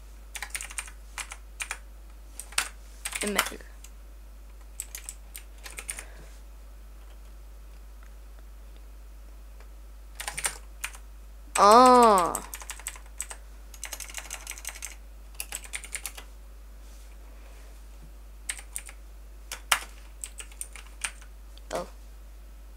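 Typing on a computer keyboard in a quiet room, several short bursts of clicking keystrokes spread through the clip, with a few brief spoken words between them.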